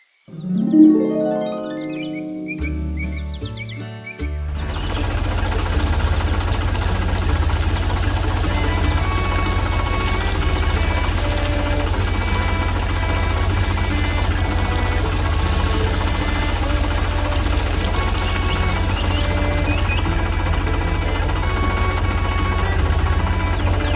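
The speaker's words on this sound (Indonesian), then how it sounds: "Traktor biru dengan tangki kuning sedang bekerja di sekitar tanaman yang tumbuh" A cartoon blue tractor with a yellow tank works a field of growing crops, a steady droning engine hum that runs continuously after a short burst of bouncy musical sounds at the start.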